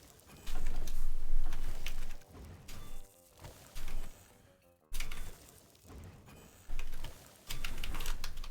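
Bursts of typing on a computer keyboard, clattering in uneven runs with short pauses between them, close and moderately loud with no talking.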